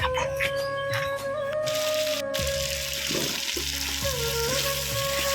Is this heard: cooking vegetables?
yes